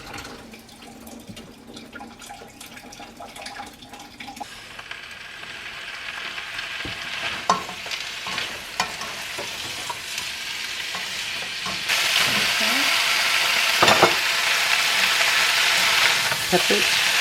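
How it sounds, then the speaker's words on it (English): Bamboo shoots and water chestnuts hit a hot wok for a teriyaki bowl, bringing a bright sizzle that swells louder partway through, broken by scraping stirs and clatters of the utensil against the pan. "Now Alan is adding the bamboo shoots and the water chestnut."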